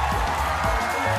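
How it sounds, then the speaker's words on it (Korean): A short burst of studio audience applause and cheering at a Korean comedy show, dense and continuous throughout. "박수 주세요."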